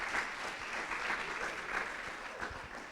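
Sustained audience applause for the speakers at a digital transformation academy event: dense, steady clapping from a sizable crowd, fairly even in loudness throughout, with no talk over it.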